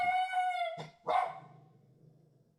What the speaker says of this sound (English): that was my very nervous dog going off for a reason